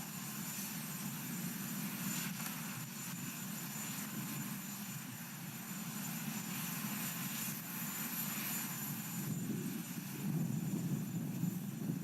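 A steady, continuous helicopter engine drone, broadband and constant with a low rumble, running nearby throughout at the U.S. Capitol inaugural ceremonies, no talking.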